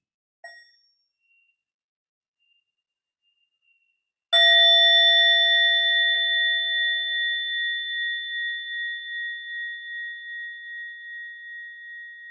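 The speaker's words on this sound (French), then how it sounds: "je vous propose un petit son de la cloche pour ouvrir cette méditation" A meditation bell struck once to open a meditation: a single clear ring after a few seconds of near silence, then a long shimmering tone that slowly fades over the following eight seconds.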